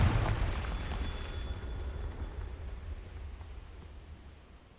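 A Confringo spell explosion in the video game Hogwarts Legacy booms loudly at the start, then settles into a long, dense rumbling roar that slowly fades.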